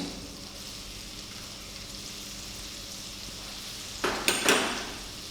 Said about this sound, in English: Now the butter is nicely melted. Now what I will do, I will add some chopped onions